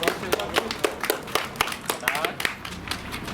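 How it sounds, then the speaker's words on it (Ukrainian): People applauding a prize-winning team at a charity history-and-sports quest award ceremony: a brisk, rhythmic patter of hand claps from a modest group, with voices speaking over it. "Хлопці, оплески вам!"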